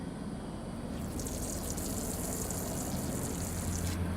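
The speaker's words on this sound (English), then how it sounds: "connect it to the first filter opening, and you'll see it fits in very snugly, and blast that water through" Water blasted through an injector cleaning filter, a continuous gushing hiss with a brighter spraying rush entering partway and cutting off near the end, fairly faint and steady.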